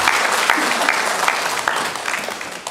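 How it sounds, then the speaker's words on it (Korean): A church congregation at Sunday morning worship applauds, a dense, steady wash of many hands clapping with no speech over it. "영광의 박수를 우리 하나님께 올려드리겠습니다."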